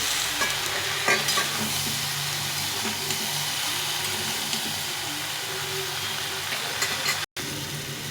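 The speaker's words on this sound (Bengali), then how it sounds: "পেঁয়াজগুলো দিয়ে একটু নাড়াচাড়া করে দেবো" Onions being stirred while frying in a pan for a fish-bone curry, a continuous close sizzle with repeated scraping strokes of a spatula, a brief dropout near the end, no speech.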